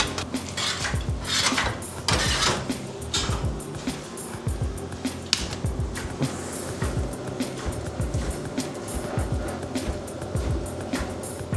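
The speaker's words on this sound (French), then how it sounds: "il va être monté au batteur pendant 10 minutes" An electric mixer beats softened butter in a restaurant kitchen. It gives a steady mechanical whirr with rattling, clattering bursts that goes on without a break, and loud kitchen noise runs in the background.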